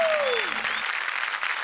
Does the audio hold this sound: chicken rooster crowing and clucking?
no